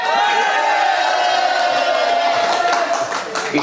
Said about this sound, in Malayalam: എടാ അപ്പൊ റൂണിനൊരു കൈയടി ഇവിടെ